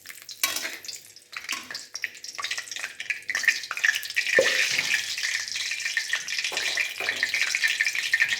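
Two bay leaves drop into hot oil for Kolkata-style mutton keema ghugni, setting off a loud, continuous sizzle with scraping stirs and clinks from the pan.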